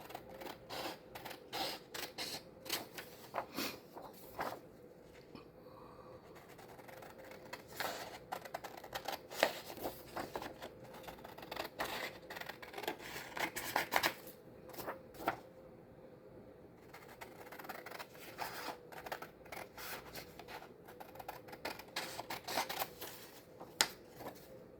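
Scissors cut out a paper tag for a paper-craft folio in a long run of quick, crisp snips and rustles that come and go, close and fairly quiet.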